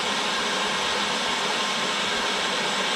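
A water pump sits inside a gold classifier on top of a pan and runs with a steady, dense rushing whir that is continuous and loud throughout, with no voices.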